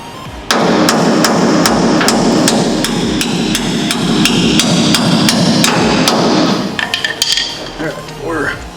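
A hammer is driven against a leaf spring bushing to seat it in a vehicle suspension. Sharp metallic blows land in a fast, steady rhythm for about six seconds, then slow into a few scattered taps with brief talk nearby.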